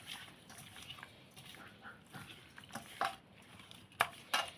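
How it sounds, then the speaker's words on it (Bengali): Fish pieces are squished and mixed with spices by hand in a bowl, giving soft wet squelches and a few sharper slaps and clicks, fairly quiet and close, with no talk. "এখন আমি মাছগুলো মেখে নিই"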